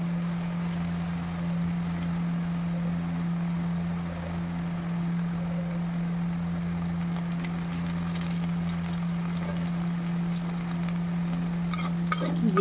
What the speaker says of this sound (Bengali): পেঁয়াজটাকে একটু বাদামি কালার করেই ভাজবো